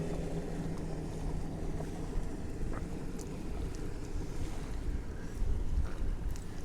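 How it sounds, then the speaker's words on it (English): A boat passes on the water near Rockport, Texas, as a steady low engine rumble that carries under constant wind noise on the microphone, with faint lapping water and no voices. "I hear a boat."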